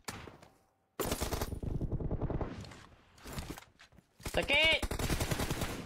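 Gunfire in PUBG Mobile during a team deathmatch, fast automatic bursts heard under excited talk from players.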